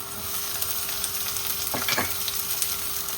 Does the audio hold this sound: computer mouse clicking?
no